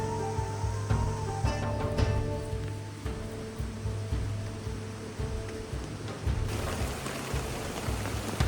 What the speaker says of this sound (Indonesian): Dan di tengah malam kita kembali terbangun dikarenakan hujan turun